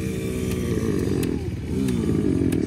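A racing motorcycle's engine revs with the throttle at a track, a loud, close, continuous buzzing drone that dips slightly midway and then climbs again.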